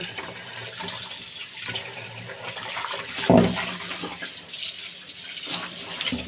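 Rui fish being washed in water, with splashing and sloshing in a basin, uneven and close, including one sharper splash midway.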